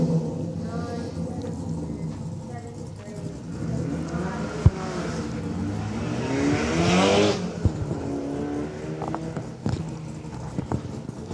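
A Subaru WRX accelerates up a hillclimb course, its engine note rising and swelling to a peak as it passes, then fading, with commentators talking throughout.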